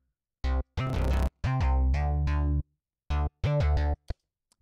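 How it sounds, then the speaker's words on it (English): Distorted Serum synth run through a phaser in Ableton Live: a series of buzzy, sweeping staccato notes and held tones in an uneven rhythm, loud and close, ending in a short blip, with no voice over it. "so I added a phaser, which on its own would sound like this"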